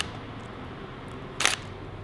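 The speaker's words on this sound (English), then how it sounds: "let's hear if we can hear the shutter" A single crisp shutter click from a Nikon D750 DSLR, short and fairly close, against a quiet hiss with faint traffic rumble.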